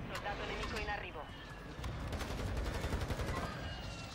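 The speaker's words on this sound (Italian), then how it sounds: "Aspetta, c'è il bombardamento." Artillery bombardment in a first-person shooter game, a dense rumbling barrage of repeated blasts and gunfire running throughout, with a voice talking over it.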